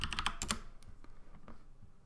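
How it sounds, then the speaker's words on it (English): Someone types a password on a computer keyboard: a quick burst of close, crisp keystrokes followed by a few scattered, fainter taps. "typing in your password"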